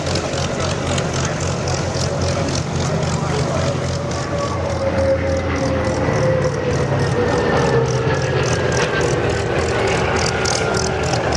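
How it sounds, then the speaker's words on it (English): The Allison engine of a CAC Boomerang fighter drones past at an airshow in 2009, a steady, loud chugging growl whose pitch slides gradually downward as it passes, with a commentator talking throughout. "The Allison engine chugging away there"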